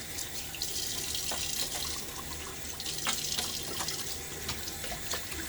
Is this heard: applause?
no